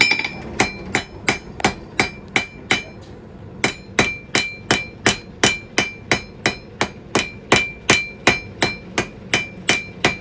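A blacksmith hammers a small metal leaf at the forge: a steady series of sharp, ringing strikes, about two dozen in all, with one short pause near the start, close and loud with no talking.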